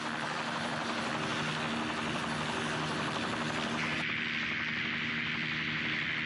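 Hiller coaxial rotor helicopter in flight in old archival footage, a constant loud rotor and engine drone with a noisy, static-tinged recording quality and no voices.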